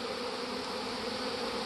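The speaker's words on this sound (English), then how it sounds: "But I don't know where this swarm come from." A swarm of honeybees buzzing, a dense continuous drone from many insects close by that stays steady and unbroken throughout.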